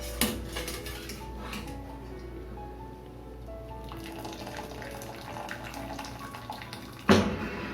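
Wet clatter of a utensil scooping cauliflower out of water in a pot, with splashing and a sharp clink of metal near the end.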